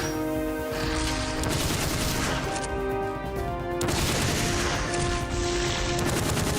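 Enemies shoot in Onimusha 2: Samurai's Destiny, a dense continuous barrage of gunfire and crashing impacts layered over a sustained tonal music bed, loud throughout.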